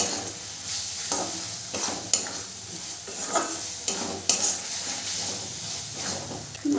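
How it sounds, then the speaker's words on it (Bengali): Spice paste with turmeric powder fries with a steady sizzle and hiss in a pan, punctuated by repeated scraping strokes of a spatula as it is stirred, for a soybean and potato curry. "দিয়ে মশলাটাকে ভালো করে আমি কষিয়ে নেব।"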